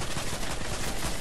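Gunfire in the video game Fortnite, a loud, dense burst of rapid shots packed close together and filling the whole moment.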